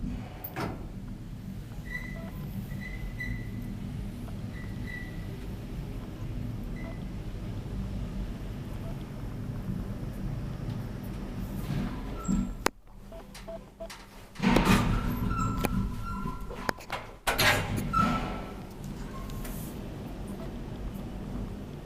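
Old Otis traction elevator ride in Leppävaara, Espoo: a steady low hum of the running car, then a clunk and the rumble and scrape of sliding doors opening and closing near the end.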